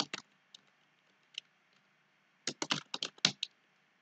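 Keys tapped on a computer keyboard for a Control Shift O shortcut: a few scattered clicks, then a quick cluster of close, crisp keystrokes, with no voice.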